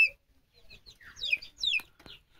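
Ranchi breed chickens cluck on a poultry farm, a few short separate calls spaced across a couple of seconds, close and moderately loud with no talk over them.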